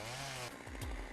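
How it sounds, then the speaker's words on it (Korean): Chainsaw roaring while felling a tree in a snowy Siberian forest, a continuous loud whine that shifts pitch partway through as the cut bites, with no voices. "벌목공의 예민한 온몸의 감각이 톱으로 집중된다"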